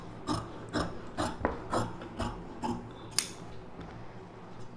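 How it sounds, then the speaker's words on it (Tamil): Scissors cutting silk saree blouse fabric along a marked line for a star neck blouse, a steady series of crisp snipping and rasping strokes, close and moderately loud, with no talking. "இந்த அளவு அப்படியே டீஸ் மார்க் போட்டு இந்த டீஸ் மார்க்கில் நம்ம கட் பண்ணிக்கலாம்"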